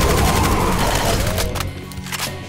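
Chaingunner enemy in Doom 2 with the Project Brutality mod firing its chaingun: dense, loud rapid-fire bursts through the first half, thinning into scattered shots and echoing booms.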